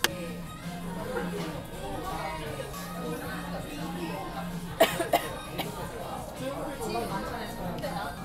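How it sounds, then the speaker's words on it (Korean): A person coughs sharply a few times while eating noodles heavy with garlic in a restaurant, amid background chatter from other diners and their own speech. "기침이 나오네. 이게 팍 먹으니까 어우."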